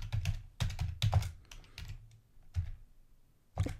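Typing on a computer keyboard, close bursts of quick key clicks in uneven clusters with short pauses between.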